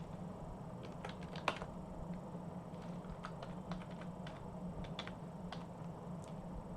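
Code being typed on a computer keyboard: steady, fairly quiet runs of light key clicks with a few louder taps, over a constant low hum and with no voice.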